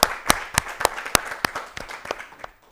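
An audience applauds a contestant on an Ethiopian children's TV quiz show, with a string of sharp, fairly evenly spaced claps that thin out toward the end and no talking.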